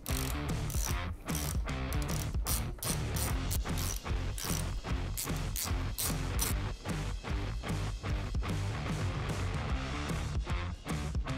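A hand ratchet clicks steadily and rapidly while bolts come off the brake caliper of a Harley Touring front end, a close, continuous mechanical pawl rattle running throughout with no pauses.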